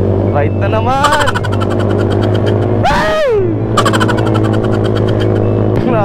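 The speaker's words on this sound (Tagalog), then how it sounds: "Napakaingay na tambutso." A very loud racing motorcycle exhaust roars close by on a mountain road ride with a group of big bikes. It rises and falls with throttle blips, and a rider talks over it.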